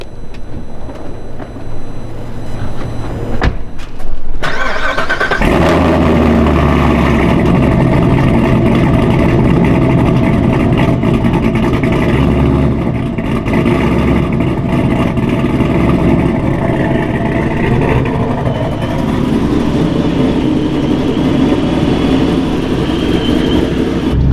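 A 2014 Chevrolet C7 Corvette with a TSP 427 V8 cranks and fires up at about four seconds, then settles into a loud, steady, rumbling idle with deep low-end throb.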